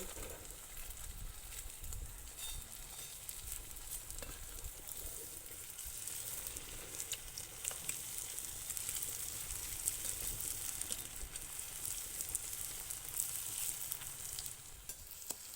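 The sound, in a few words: potato and flour snacks frying in oil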